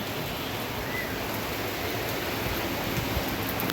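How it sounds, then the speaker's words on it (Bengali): Heavy rain pours down outside in a steady, dense hiss that stays even and unbroken throughout, with no voices. "প্রচুর বৃষ্টি হচ্ছে বাইরে, আসলে অনেক বৃষ্টি।"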